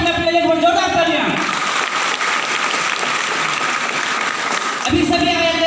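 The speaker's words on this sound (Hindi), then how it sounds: "सब प्लीज अपने प्लेट पर जोरदार तालियां।" Audience applause at a Safe Shop business meeting, a dense steady clapping from a crowd lasting several seconds, with a voice speaking over it at the start and end.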